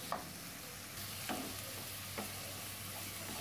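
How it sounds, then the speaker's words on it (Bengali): Onion paste stirred and fried in oil in a pan for a Bengali doi bhetki fish curry, giving a steady soft sizzle with a few clear scraping strokes of the spoon, close and moderately quiet. "পেঁয়াজটাকে তেলের মধ্যে খুব ভালো করে নাড়াচাড়া করে নিচ্ছি"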